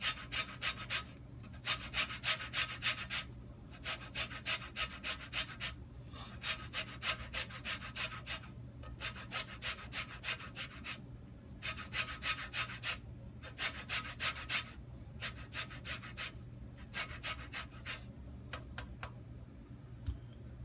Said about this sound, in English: using a small setting and just grate some of the zest inside